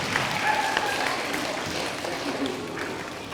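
Brief audience applause after a yo-yo trick at a public library show, a moderate wash of clapping with a faint voice underneath.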